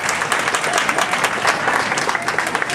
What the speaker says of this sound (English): put your hands together, give it a round of applause.